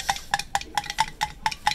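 A spoon scrapes rhythmically against a pot while stirring a thick herbal mixture of red sugar and purified alkushi powder, about eight evenly spaced close, sharp scrapes with a light metallic ring.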